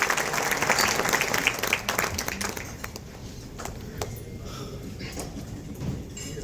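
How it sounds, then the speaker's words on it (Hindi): Audience applause welcoming the Advocate General at a formal court function, dense clapping at first that thins and tapers into scattered claps and room murmur. "तालियों से विद्वान महाधिवक्ता का स्वागत और अभिनंदन करें"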